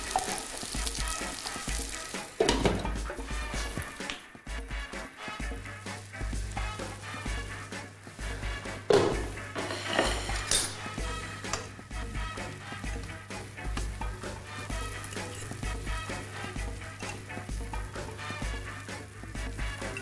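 Steady, close sizzling of curd pancakes frying in a pan continues throughout, with a low hum underneath and a couple of brief clinks.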